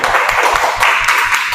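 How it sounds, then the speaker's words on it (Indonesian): A class clapping for a student in a university lesson, a brisk run of rhythmic hand claps from a small group nearby, close and fairly loud with no talk over it. "Kasih tepuk tangan dulu untuk Aura ya."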